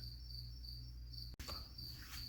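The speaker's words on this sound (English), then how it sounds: "I apologize for the cricket sounds, everybody" Crickets chirp in a steady, continuous high trill throughout, fairly faint and unbroken apart from one brief dropout, with no talk.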